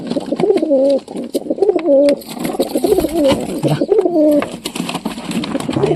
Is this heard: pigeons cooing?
yes